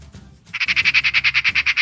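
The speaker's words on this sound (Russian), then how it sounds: "Сорока." A Eurasian magpie gives a fast, loud chattering rattle of about fifteen evenly spaced harsh notes, close and clear after a brief quieter start.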